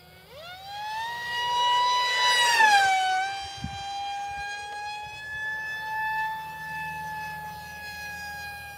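A ZOHD Alpha Strike 620mm RC plane's propeller whines at high speed, its pitch swooping up and then settling into a steady high drone as the aircraft passes overhead and fades slightly.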